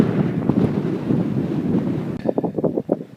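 Wind blows across the open desert in Sudan, a steady rushing roar buffeting the microphone that briefly drops and turns gusty near the end.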